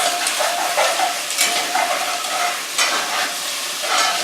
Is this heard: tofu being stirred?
yes